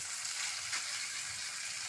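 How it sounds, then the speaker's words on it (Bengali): Cooked rice fries for fried rice with carrot, beans and egg, a steady close hiss of sizzling in the pan with no one talking. "এই হচ্ছে ভাতটা ভাজা চলছে"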